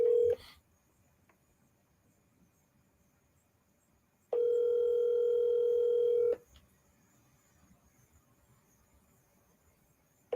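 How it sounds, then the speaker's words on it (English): A telephone line gives a short tone, then a steady, loud dial tone holds for about two seconds before cutting off, with near silence around it and no voices. "Let me get Reggie on the phone."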